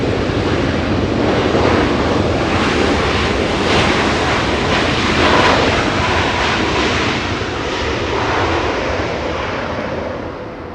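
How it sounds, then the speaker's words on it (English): Loud, steady jet roar from an Alaska Airlines Airbus A321neo airliner at Los Angeles International Airport, a broad rushing wash that holds for the whole stretch with a slight swell midway, mixed with wind buffeting on the microphone. "Alaska 5, an Airbus A321neo"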